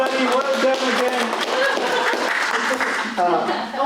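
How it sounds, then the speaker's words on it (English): Audience at a park district meeting claps in a round of applause while a voice talks over it and a few chuckles rise from the room. "So, round of applause for your team, everybody."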